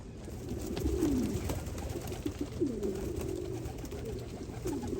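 Several racing pigeons coo steadily in low, rolling calls at an open loft, with a constant background hum.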